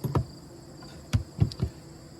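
Agitated honeybees buzzing around their hive while it is opened, a faint steady hum broken by a few soft close thumps and brushes.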